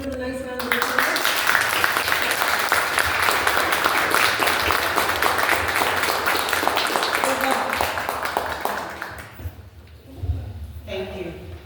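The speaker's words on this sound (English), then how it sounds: "could we give them a nice round of applause?" An audience at a school board candidates forum claps in a sustained round of applause lasting several seconds, then it tapers off and a voice begins speaking.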